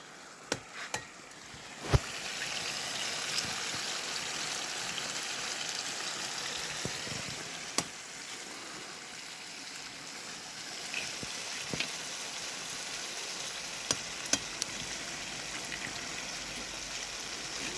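Eggs frying in a pan for tomato eggs, eight eggs in all, give a quiet, steady sizzle with scattered small pops and clicks throughout, and no voices.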